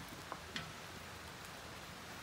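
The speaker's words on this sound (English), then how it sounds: "Because it's raining" Steady rain falls outdoors around a yard with a lawnmower, a faint even hiss with a couple of small drop ticks, quiet and unbroken by talking.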